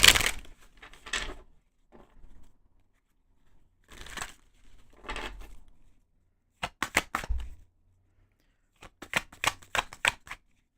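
Tarot cards are shuffled in a few separate bursts of soft riffling and flapping, close and fairly quiet, with short silent gaps between the handfuls and a quicker crisp run of card slaps toward the end.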